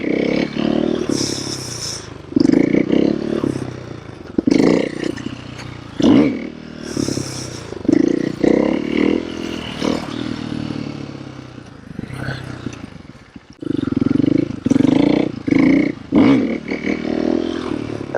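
A motorcycle engine revs in repeated rising and falling bursts as the rider strings together clutch-up wheelie combos. It sounds close and loud, with short gaps between pulls and no talking.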